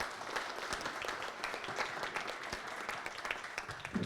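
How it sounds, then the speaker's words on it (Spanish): Audience applause welcoming guests at a comic book launch, a fairly faint but steady patter of many hands clapping, somewhat distant, with scattered individual claps standing out. "recibamos con un aplauso a nuestras invitadas"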